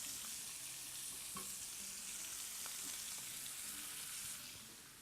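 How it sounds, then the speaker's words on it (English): Potatoes drop into a pan beside a browning roast and set off a steady, fairly quiet sizzle and hiss of frying fat, with faint stirring taps in the mix and no talking. "we can add the potatoes"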